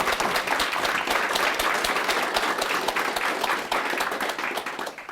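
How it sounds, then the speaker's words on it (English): Audience applause from a campus crowd welcoming guests, steady dense clapping throughout at a loud, close level with no talking over it. "let's all give them a nice round of applause for coming to our campus today."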